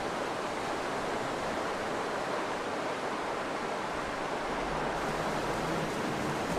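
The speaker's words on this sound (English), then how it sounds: "The sound of the rough stream discourages them" The rough stream of the Mara River in the Serengeti, Tanzania, roars as a broad, steady rushing wash of water that stays loud and unbroken, with no voices.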